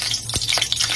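Dried red chillies dropped into hot oil for a tempering, a dense crackling sizzle with a few sharper pops and stirring scrapes, close and steady for about a second.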